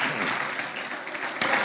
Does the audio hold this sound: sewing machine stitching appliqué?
no